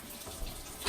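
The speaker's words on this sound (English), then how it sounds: "I turn the water on and look for any sign of leakage from either of the drains." Water runs steadily from a kitchen sink faucet during a home inspection check of the drains for leaks, a close, continuous rushing hiss that swells slightly at the end, with no voices.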